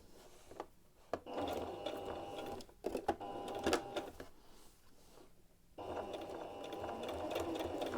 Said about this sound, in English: I'm just going to hold it as I top stitch close to the band.